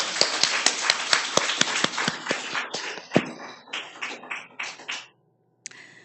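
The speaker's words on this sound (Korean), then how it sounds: "우리 하나님 앞에 영광의 박수 올려드리겠습니다" A church congregation at a Korean Sunday evening worship service claps together in quick, even rhythm. The applause is loud and close, then thins into scattered claps and stops abruptly, with a faint sound after a short silence.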